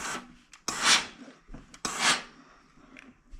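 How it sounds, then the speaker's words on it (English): An iron pressed and slid across the seams of fabric potholders, giving two soft, breathy rubbing swipes with light scuffs between them, close by and quiet. "Then the one in the middle, I'm going to iron the opposite direction."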